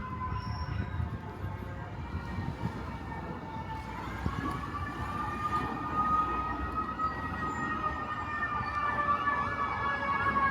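A wailing ambulance siren on a Brooklyn street along Fort Hamilton Parkway, the rising and falling tones steady and fairly close over continuous traffic rumble, with a voice speaking briefly underneath.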